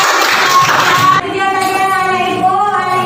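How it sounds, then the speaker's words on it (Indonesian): A school class bursts into brisk hand clapping for about a second, then the clapping stops abruptly and voices take over in the room. "Iya, tepuk tangan."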